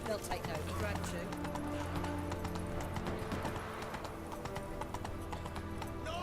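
Roach the horse galloping in The Witcher 3, steady rapid hoofbeats thudding over a continuous musical background, close and prominent throughout.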